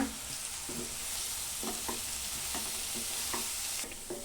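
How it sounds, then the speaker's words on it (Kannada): Sweet potato pieces stir-fry over a low flame, a soft continuous sizzle with repeated scrapes and knocks of a spatula against the pan. "ಈಗ ಕಟ್ ಮಾಡಿ ಇಟ್ಕೊಂಡಿರೋಂಥ ಸ್ವೀಟ್ ಗೆಣಸು ಹಾಕ್ತಾ ಇದ್ದೀನಿ"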